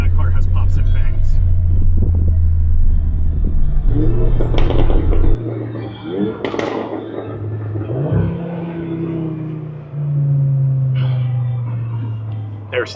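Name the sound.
car driving past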